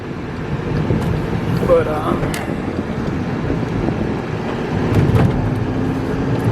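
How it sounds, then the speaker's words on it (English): A vehicle on a test drive after an injector repair gives a steady low engine and road rumble, moderately loud and continuous, with wind noise and a brief spoken word over it. "we're gonna go and give her a little test drive"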